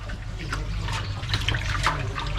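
Running water washes photo film off a brass plate, a continuous close splashing stream with slight surges, steady and fairly loud with no talking.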